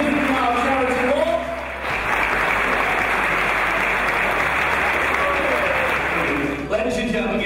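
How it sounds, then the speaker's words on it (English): A crowd gives a big round of applause for charity walkers setting off on a 50-mile walk, sustained dense clapping for several seconds, with voices at the start and end. "Ladies and gentlemen, give them a massive round of applause."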